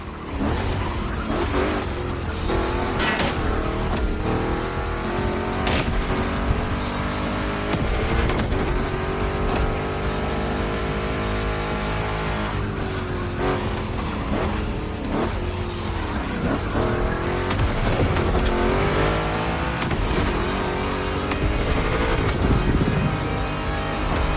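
Two Chevy big-block race cars roar through a Gymkhana race in The Crew Motorfest, with a loud, sustained engine drone, rising and falling revs, and repeated tire squeals and skids for the whole stretch. No one talks.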